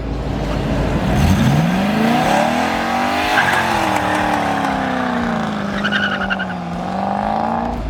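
Car doing a burnout in Utah, its engine revving and wailing loudly and rising and falling in pitch while the tires squeal continuously up close for about eight seconds.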